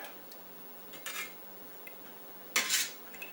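A metal utensil skims and scrapes a pan of melted rendering wax, giving a couple of brief, close clinks and scrapes over a quiet background.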